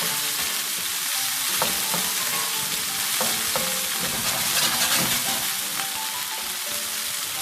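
Ingredients for samosa chaat fry in a pan with a continuous close sizzle and crackle, punctuated by occasional scraping stirs, with no talking.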